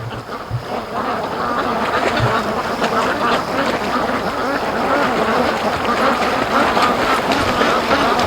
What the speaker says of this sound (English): So now there are a bunch of ducks. I can hear them behind me.